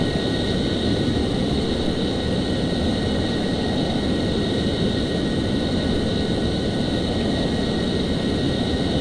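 An F-14 jet landing in Flight Simulator X roars with a steady, loud, continuous engine drone and a high whine, with no talking.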